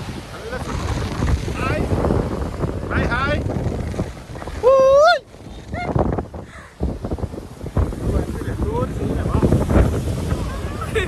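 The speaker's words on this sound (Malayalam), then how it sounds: "ഭയങ്കര കാറ്റ്" Strong coastal wind at Valiyazheekkal buffets the microphone in heavy rumbling gusts while a person talks over it, with a brief sharp sound cutting through midway.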